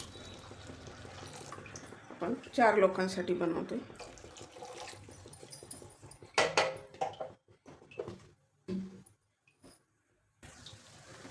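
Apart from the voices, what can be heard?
adding water to pumpkin soup in a pot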